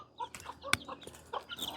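A chicken clucking close by in a rural Thai yard, several short rapid clucks with one sharp louder cluck partway through, no talk.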